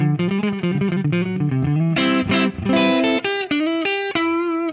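Electric guitar on the neck pickup played through a Turner Quad Gain Stage boost/overdrive pedal: a run of sustained, lightly driven notes and chords, loud and close, with no voices.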